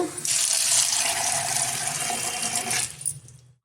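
Water splashes from a vessel over a cup of washed chickpeas set to soak overnight, a close, steady pour of about two and a half seconds that trails off at the end.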